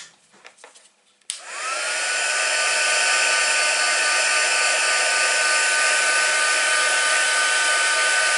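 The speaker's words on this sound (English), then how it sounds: "The reason I'm blowing it cold is because it gets bloody hot." A heat embossing gun starts with a click after a few faint handling taps, then blows with a loud, steady whooshing roar right beside a card for several seconds without letup.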